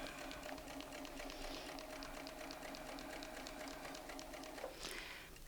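A Bernina sewing machine stitches steadily during ruler work around a template, a quiet, continuous rapid needle patter with a faint tonal hum, running without pause.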